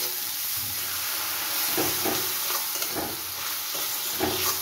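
Tomato paste with ginger, cumin, turmeric and salt sizzles in a pan, a steady hissing fry broken by rhythmic scraping strokes of a spatula stirring, close up and without voices.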